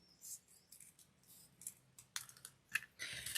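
Scissors snip paper into shapes in short, irregular, faint crisp cuts and rustles, heard close by in a quiet room.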